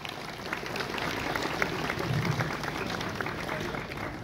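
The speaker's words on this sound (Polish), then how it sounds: "Brawa!" Steady applause from a crowd at a village harvest festival in Kamionka gmina, continuous and fairly even throughout with a murmur of voices mixed in.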